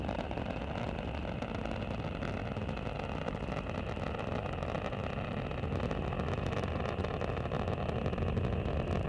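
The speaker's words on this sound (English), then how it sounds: "Endeavour's engines are now throttling down as the orbiter begins to pass through the area of maximum dynamic pressure" Space Shuttle Endeavour's engines during the STS-68 night launch produce a continuous, broad, steady roar that stays loud and unbroken throughout, with no speech.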